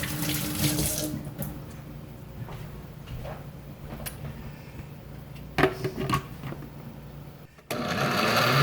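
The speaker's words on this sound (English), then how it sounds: "I have to rinse my hands." A kitchen tap runs steadily while hands are rinsed during home tomato sauce canning, a continuous close splashing hiss with a few clunks and a brief pause near the end.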